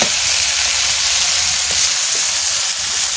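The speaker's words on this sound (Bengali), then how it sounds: "বরবটিগুলোর ওপর আমি লবণ দিয়ে দেবো। দিয়ে ভালো করে ভেজে নেব।" Yardlong beans fry with salt in a pan, giving a loud, continuous, even sizzle from start to finish with no talking.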